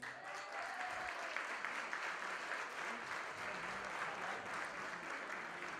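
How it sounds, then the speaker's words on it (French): Audience applause at a dinner tribute event, a distant, fairly soft ripple of many people clapping that holds steady for several seconds. "On les applaudit, s'il vous plaît."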